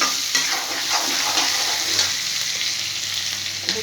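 Onions and vegetables stir-fry in a little oil in a pan, a close, loud, continuous sizzle broken by scraping stirs of a spoon. No voices are heard.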